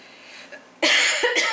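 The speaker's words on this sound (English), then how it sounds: "Excuse me, coughing here." A person coughs loudly up close in two or three harsh bursts after a quiet moment.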